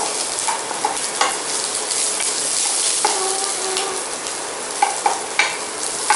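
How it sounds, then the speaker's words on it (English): Onions fry in a pan on a gas stove, a continuous crackling sizzle with scattered spatula scrapes and light taps throughout, with no talking. "And now I'm going to saute these onions."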